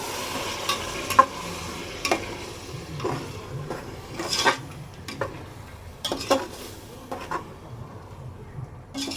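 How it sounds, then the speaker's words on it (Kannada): Spiced green masala paste frying and being stirred in a pan over high flame, with a steady sizzle and a run of sharp scraping spatula strokes against the metal pan, fairly close. "ಹೈ ಫ್ಲೇಮಲ್ಲೇ ಇಟ್ಕೊಳ್ಳಿ. ಇವಾಗ ಫ್ರೈ ಆಗಬೇಕು."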